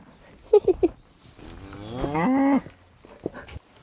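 Cows moo outdoors, with a few short grunting calls followed by one long, loud drawn-out moo and a softer low sound afterward.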